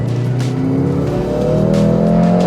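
Mercedes-AMG SUV accelerating hard in sport mode, a loud, steady engine roar climbing in pitch through the gears, close and continuous with no talking.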